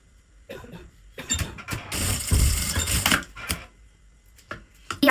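Sewing machine running a straight seam through fabric while sewing a notebook cover with a flap and ruffles, a mechanical burst of stitching in the middle with quieter clicks and handling before and after.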